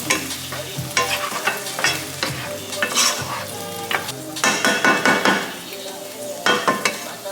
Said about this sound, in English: once those start sauteing, I like to season my little vegetables that I put in